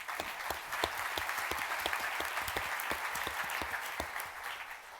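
A crowd at a startup week kickoff breakfast in Denver applauds steadily, dense clapping with a few sharper individual claps standing out, sustained at an even level before tapering slightly at the end.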